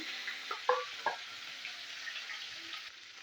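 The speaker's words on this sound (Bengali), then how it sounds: "মাছগুলো আমি ভেজে নিচ্ছি।" Rohu fish pieces, rubbed with salt and turmeric, frying in oil for a mustard fish curry, giving a soft, even sizzle with a few brief pops near the start, quiet and close.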